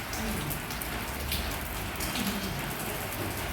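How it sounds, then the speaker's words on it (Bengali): Steady rain falls in Kashmir, a dense, even patter of drops on surfaces heard close and continuous throughout, with no other sounds standing out. "এই হচ্ছে বৃষ্টি।"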